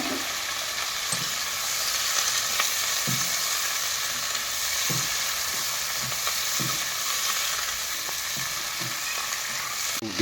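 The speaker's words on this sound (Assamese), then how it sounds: "তেলত সজনাটো ভাজি কৰি ল'ম।" Moringa drumsticks fry in hot oil, a constant bright sizzle close by with soft periodic stirring taps of a spatula against the pan.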